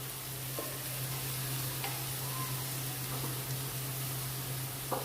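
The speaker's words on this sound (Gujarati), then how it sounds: "આ રીતે ચલાવી અને લસણને આપણે ચડવી લઈશું" Garlic sautés in oil in a pan over a high flame, a steady bright sizzle filling the background while a utensil scrapes and stirs it in a few short strokes, no voices heard.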